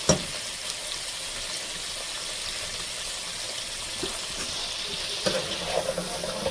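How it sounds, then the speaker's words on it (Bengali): Golda prawns seasoned with salt and turmeric fry lightly in a pan, giving a soft, steady sizzle with a few faint clinks and stirring scrapes, close but low in level, without any talking. "লবণ দিয়ে দিলাম সামান্য, হালকা ভেজে দেবো এই জন্য।"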